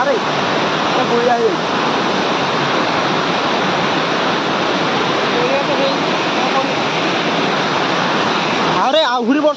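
Loud, constant roar of Srabani waterfall in the Nayagarh forest, swollen by rain, crashing down, a steady wash of rushing water throughout, with a voice briefly heard near the end.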